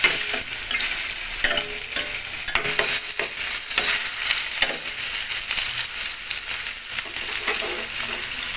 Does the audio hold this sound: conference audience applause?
no